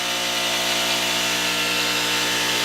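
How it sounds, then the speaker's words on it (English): A bench grinder grinds relief on the side of a boring bar insert, giving a loud, continuous steady whine with a rough grinding hiss that holds unchanged throughout. "So what we want to do is we want to grind our relief on the side."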